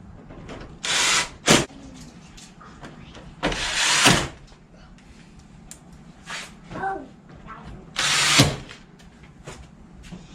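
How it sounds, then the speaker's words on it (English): A power drill drives screws back into a mini split blower assembly, three loud broadband whirring bursts spaced a few seconds apart, each close and lasting under a second, with quieter handling noise between. "I know some of y'all are gonna have a fit for me using a drill on this"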